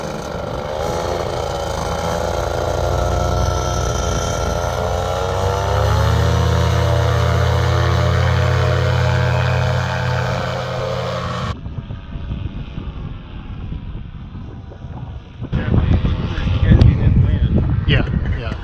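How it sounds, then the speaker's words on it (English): Strong wind buffets a paraglider in flight with a Blackhawk Talon 190 harness, a loud, rumbling roar for about eleven seconds before cutting out, then returning in gusty bursts near the end. "I would have never gone up in this amount of wind"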